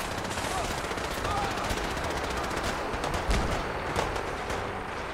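Rapid automatic gunfire and scattered shots from the video game Fallout 4, a dense continuous burst of rattling fire with a few louder cracks, heard alone at steady level.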